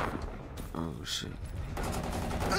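Rapid gunfire bursts from a gun in the video game Black Ops 3 multiplayer, fairly faint and continuous beneath players chatting.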